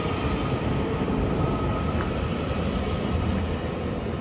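A Northern passenger train led by unit 331031 arrives at Deansgate station, a steady broadband rumble of wheels and engine holding level and close throughout, with no talk.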